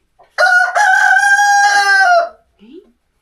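A rooster lets out one loud, close, drawn-out crow on a small farm among chickens, and a short soft cluck follows after it.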